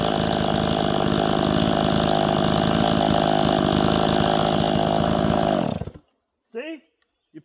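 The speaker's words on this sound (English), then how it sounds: "I'm going to try to cut into this bigger piece of maple, which is every bit of what these saws want" A chainsaw roars steadily and loud at close range while cutting into a big piece of maple wood, then cuts off abruptly near the end, followed by a brief voice.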